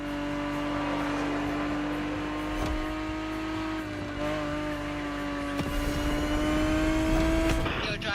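A powerful car engine in The Crew Motorfest roars steadily at high revs, its tone climbing slowly with a brief dip and surge partway through, loud and continuous with no talking.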